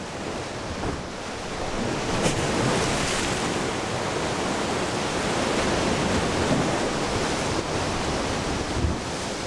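Ocean waves break continuously against a Galapagos Islands shore, a dense, steady roar of surf with occasional louder crashes and no voices.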